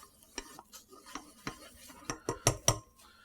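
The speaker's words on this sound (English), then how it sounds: "I'm going to add some flour and mix it all together, kind of create a paste with my tomato paste" Metal utensil scraping and clinking in a pan as flour is stirred into tomato paste for coq au vin, a steady series of close, sharp knocks and scrapes that grow louder toward the end, with no talking.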